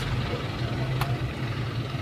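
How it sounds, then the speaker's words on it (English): A government vehicle drives along a residential road in the Norbrook area of Kingston, Jamaica, giving a faint, steady engine and tyre rumble that stays low and even throughout, with no voices. "A government vehicle, that's another vehicle that'll come."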